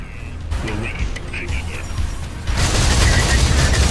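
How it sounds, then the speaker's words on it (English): Gunfire and a grenade blast in the Xbox Live Arcade shooter Hybrid: a burst of rapid shots, then a louder, sustained rumble of fire and explosion. "Pretty sure I just killed myself because a friendly flew in front of my grenade and got bounced back at"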